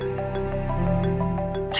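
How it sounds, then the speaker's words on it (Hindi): A mobile phone ringtone plays in an indoor drama scene, a steady repeating electronic melody with regular pulsed tones, fairly loud and continuous with no talk over it. "किसका फोन है?"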